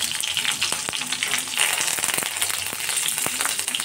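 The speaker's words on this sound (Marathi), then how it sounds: "तेल गरम झालंय, टाकूया आपण मोहरी, जिरी," Mustard seeds, cumin and green chili frying in hot oil, a dense steady sizzle close by with scattered sharp pops and crackles as the seeds spit, no speech.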